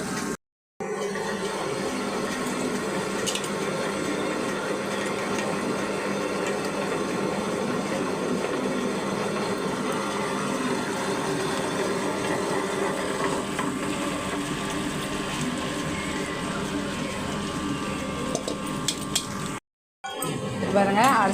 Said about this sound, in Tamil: உளுந்து அரையட்டும்